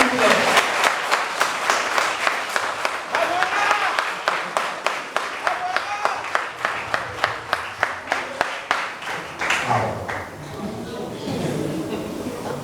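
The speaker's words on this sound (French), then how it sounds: "merci d'applaudir pour notre invité d'honneur, Monsieur Hippolyte Mangawa" Audience at a formal ceremony claps for a guest of honour, first as scattered applause and then falling into loud, rhythmic unison clapping with evenly spaced beats, which then breaks up as voices and crowd noise take over.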